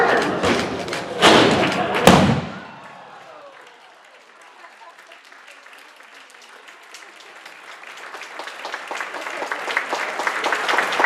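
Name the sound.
embassy wall being pushed over and breaking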